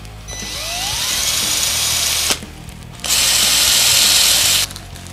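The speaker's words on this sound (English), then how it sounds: "I'm just going to drill a pilot hole." A power drill bores a pilot hole into a guitar body, whining loudly and close in two sustained bursts with a short pause between them.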